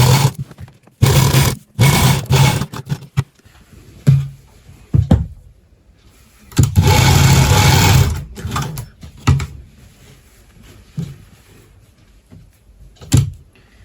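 A sewing machine stitches the lining onto a suit at the armhole in loud, close bursts of rapid mechanical whirring, with brief stops and quieter fabric handling in between and no talking.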